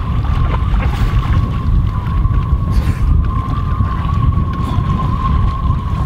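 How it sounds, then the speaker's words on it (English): Wind gusts hard across a sailboat out on the water during the Round the Island Race, a loud continuous roar buffeting the microphone, with a steady whistling tone and water noise beneath. "Gust of wind."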